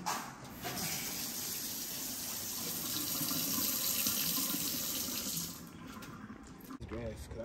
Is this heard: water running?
yes